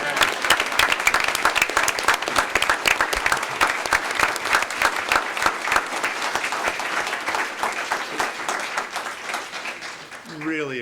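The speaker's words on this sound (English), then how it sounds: "I think we should clap one more time" An audience at a school board meeting applauds in a dense, steady wash of clapping that carries on for about ten seconds before tapering off at the end.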